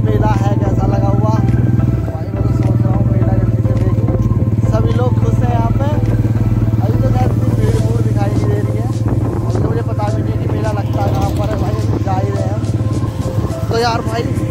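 A motorcycle engine drones steadily and loudly up close while riding into a crowded Dussehra fair in Bazpur, with clattering and crowd noise around it and someone talking over it throughout.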